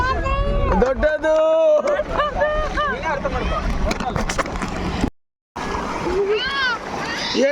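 Sea waves at Murudeshwar beach rushing in and splashing around people in the water, with excited voices and children calling out over the wash of the surf.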